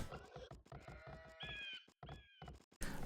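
Sheep bleat in an Age of Empires match, several wavering calls in close succession with clear, fairly loud tonal cries, ending in a brief burst of noise.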